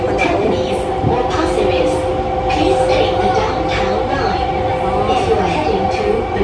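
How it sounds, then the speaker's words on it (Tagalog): Riding a Singapore MRT metro train toward Tampines, the carriage gives a steady rumble and hum with faint rail clatter, while people talk over it nearby. "MRT na tayo"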